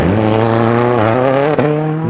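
Rally car on a stage in Whangarei, New Zealand, crossing the tricky bridge at the stage finish: a loud, close, sustained engine roar holding a steady high rev, with a brief dip near the end.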